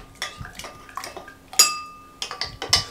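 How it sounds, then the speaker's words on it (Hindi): A spoon stirs lemon juice, mint and icing sugar together for mint lemonade, making a series of light, close clinks and taps against the container with brief scrapes between them. "लीमू का रस ऐड करके सबसे पहले हम इसको इस तरीके से अच्छे तरीके से मिक्स कर लेंगे"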